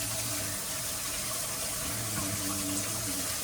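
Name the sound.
washing hands under running tap water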